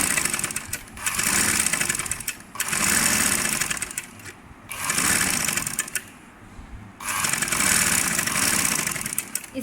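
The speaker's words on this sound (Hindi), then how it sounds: "मैं पहले दरमियान में एक सिलाई लगाऊँगी" A sewing machine stitches frock fabric in bursts. It runs in about four rapid, buzzing runs of a couple of seconds each, separated by short pauses, close and fairly loud.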